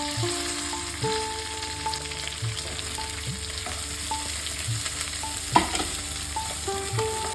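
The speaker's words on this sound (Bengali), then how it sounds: "কিশমিশটা দিয়ে দিলাম ওপরে, হালকা করে ভেজে দেবো" Raisins frying lightly in ghee in a pan for pulao, a soft continuous sizzle with occasional stirring clinks and one sharp knock, no voices.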